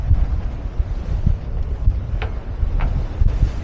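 Steady wind roars over a sailboat in open sea swell off the Mull of Kintyre, a continuous broadband rush with low buffeting gusts and two brief higher whooshes, loud and close with no talk.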